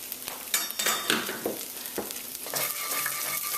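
Curry ingredients stirred in oil in a pot for a shrimp and butternut squash curry, steady sizzling with the scrape and clink of a utensil against the metal, close and fairly quiet.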